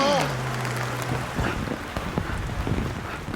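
Heavy rain pours and strong wind gusts buffet a campsite where a tent is being pitched, a dense steady wash of patter and roar up close, with a few faint bumps and knocks beneath.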